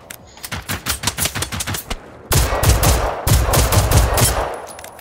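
Robots firing at the player in Generation Zero: a choppy string of separate gunshots, then heavier, denser automatic bursts that are loud and close, continuing almost without pause to the end.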